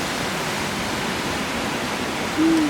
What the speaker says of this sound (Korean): 앞에서는 폭포가 떨어지고